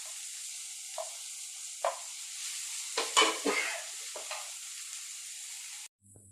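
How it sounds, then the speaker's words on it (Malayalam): Ginger, garlic and green chili fry in a pan for fish cutlet, making a steady hiss broken by several scraping stirs of a spoon against the pan. The sound ends abruptly near the close. "പിന്നീട് അതിലേക്ക് ഇഞ്ചി, വെളുത്തുള്ളി, പച്ചമുളക് അതെല്ലാം ഇട്ട് കൊടുക്കാം."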